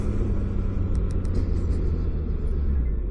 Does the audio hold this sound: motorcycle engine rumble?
yes